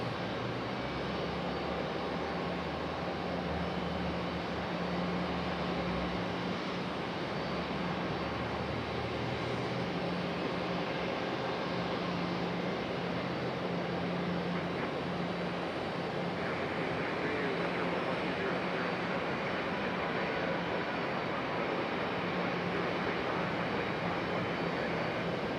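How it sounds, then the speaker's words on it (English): An Embraer E-175 airliner taxis at Raleigh-Durham International Airport, a steady broadband engine roar and rumble holding constant throughout, with a low drone underneath and no voices. "E-175 on the move."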